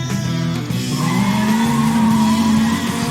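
A racing car in a video game, steered and throttled by hand gestures, accelerating with a rising engine whine and tire screeching, loud and continuous with no voices.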